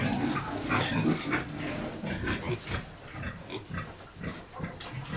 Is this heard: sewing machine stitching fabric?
no